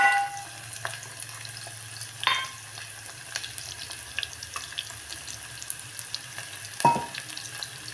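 Onions frying in hot oil in a pan for a brinjal and green bean dish, a soft steady sizzle with a few sharp clinks and stirring knocks, no voices.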